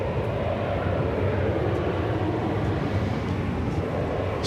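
An airliner departs Dallas Fort Worth airport, heard as a steady, dense engine roar that holds constant throughout, with no talking.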